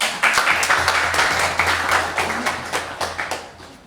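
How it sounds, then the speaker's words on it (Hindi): A crowd claps throughout, a dense, sustained patter of many hands that holds steady and thins slightly toward the end. "आप मेरा हौसला बढ़ाने के लिए ज़रा ताली से शोर मचाइए"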